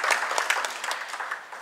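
Dense, steady audience applause welcomes an author's daughter onto the stage at a literary meet-the-writer event; a close, continuous wash of many hands clapping with no talking.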